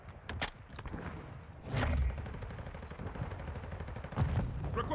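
Gunfire in Modern Warfare 2 with an STB 556 in play, a rapid burst of shots at the start followed by heavy thumping impacts around two seconds and again near four seconds, loud and close over continuous battlefield rumble.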